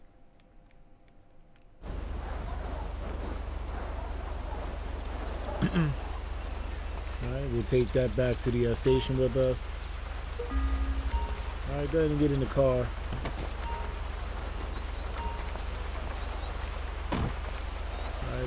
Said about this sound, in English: Oh, it's going to rain.